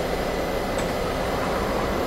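A Class 101 diesel train accelerates in a train simulator game, a steady heavy engine drone and rumbling rail noise, continuous and even with no speech.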